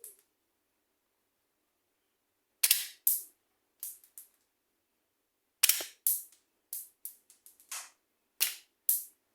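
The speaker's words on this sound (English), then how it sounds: "I'm gonna try and do this as quickly as possible to simulate the bolt action." An HDR 50 airsoft magazine cycled quickly by hand to simulate bolt action: a series of sharp, close mechanical clacks in irregular clusters, separated by silence.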